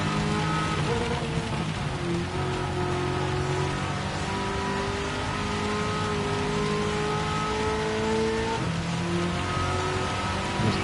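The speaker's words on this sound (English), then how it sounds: "This Camaro sounds so good." Chevrolet Camaro engine in Gran Turismo 7 during a rainy Le Mans road car race, a steady droning tone shifting pitch under continuous rain hiss, no talking.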